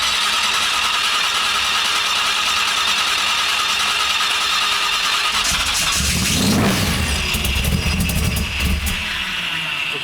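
A car engine cranks and catches partway through in cold weather, then settles into a steady idle, loud and close against a continuous broadband rumble with no talking.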